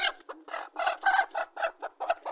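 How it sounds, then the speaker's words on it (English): A naked neck bantam chicken gives a close, rapid run of short clucks and chattering calls, about a dozen quick bursts in an uneven rhythm, heard alone. "This is a naked neck bantam."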